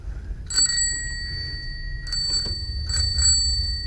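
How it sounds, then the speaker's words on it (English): Bicycle bell on a Lectric e-bike, rung in three separate bursts of bright ringing tones over low wind and road rumble during a trail ride. "Bell's much louder, much easier to press, especially in emergency situations."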